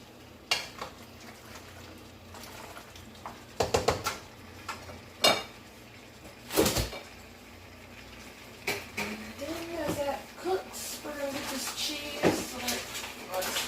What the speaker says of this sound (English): the best way to prevent it is to make sure that you are stirring your pots.